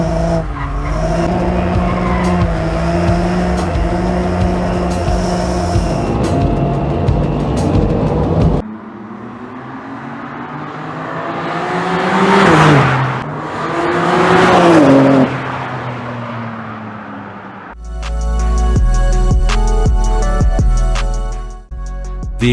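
A 2026 BMW M2 CS with a 530 HP engine revs loudly in sustained bursts. Its tires squeal and skid, and the engine pitch rises and falls as it accelerates, all close by with no talking.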